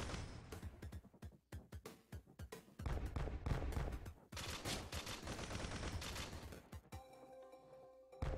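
Enemy barrage attack in the Risk of Rain video game, heard as a rapid, irregular string of sharp blasts and shots layered over game music, rising and falling in dense bursts.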